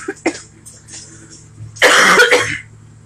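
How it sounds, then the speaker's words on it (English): Coughing from a glass artist at work making glass cardinals, a couple of short faint coughs early on and then one loud, harsh burst of about a second, close to the microphone with no talk. "Excuse my coughing."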